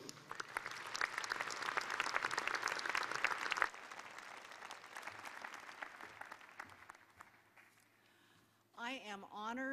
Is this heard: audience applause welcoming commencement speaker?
yes